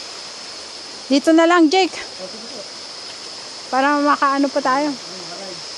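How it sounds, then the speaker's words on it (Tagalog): A waterfall near a Mangyan village in Mindoro roars as a steady, loud wash of rushing water, while two short bursts of nearby conversation sit on top of it. "Ayan yung waterfall."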